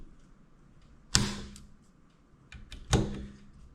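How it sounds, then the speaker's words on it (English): A torque wrench tightens the screws of precision scope rings on a Remington 700 long action rifle. It produces two sharp, close metallic clicks about two seconds apart against near silence. "hit them one time with the torque wrench just to make sure we're all factory settings"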